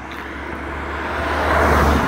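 A car passes on a road, its steady rumble swelling louder as it approaches up close.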